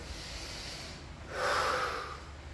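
Heavy breathing during a garage leg workout in front of a fan: a single strong, snorting exhale rises midway over steady fan noise, close and breathy.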